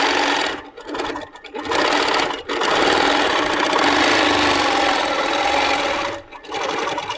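A Moxie quilting machine stitches free motion, a fast, steady needle whir running in long bursts that stop and start briefly, close up with no voices.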